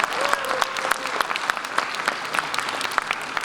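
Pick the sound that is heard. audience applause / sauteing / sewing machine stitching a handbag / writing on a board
audience applause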